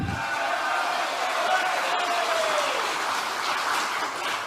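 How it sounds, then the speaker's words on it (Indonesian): A crowd at a political gathering claps steadily and evenly at moderate loudness for several seconds, with no voice standing out. "Tepuk tangan lagi."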